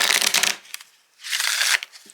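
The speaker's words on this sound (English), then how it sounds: "no bowing, no bending after that riffle shuffle" A deck of oracle cards is riffle shuffled twice, each time as a crisp burst of rapid fluttering card clicks about half a second long, with a short pause between the two close, clear bursts.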